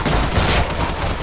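Rapid, dense gunfire in a zombie survival video game, a loud continuous burst of overlapping shots lasting about a second.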